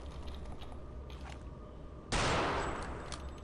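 A loud, sharp sniper rifle shot in Return to Castle Wolfenstein cracks out midway and rings into a long decaying tail, preceded by quieter mechanical clicks and background game noise.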